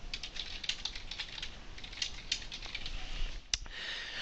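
Someone types on a computer keyboard in a quiet room, a quick uneven run of soft key clicks heard close up with no talking.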